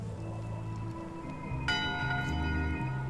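A ship's bell in Return to Monkey Island rings with a single clear strike partway through, its tone lingering over steady low background music.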